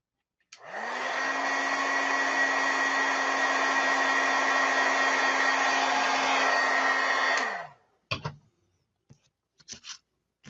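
A heat tool blows steadily for about seven seconds to dry stamped ink on card, a loud continuous whoosh with a fixed motor hum, then cuts off, followed by a few faint handling noises.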